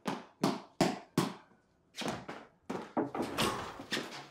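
Knocking on a door in a Korean TV drama scene: firm, close knocks, first four evenly spaced raps, then a brief pause and a faster, busier series, with no voices.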